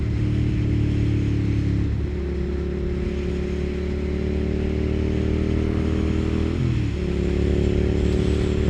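Suzuki SV 650 motorcycle being ridden, a loud steady engine drone with gear shifts around two and seven seconds where the pitch drops and climbs again, heavy wind rush throughout, no talk.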